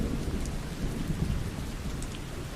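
Gentle rain falling steadily with low rumbling, soft and continuous, with no voices.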